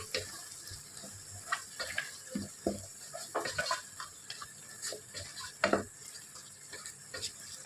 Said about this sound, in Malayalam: കിഴങ്ങ് കൂടി ഇളക്കാം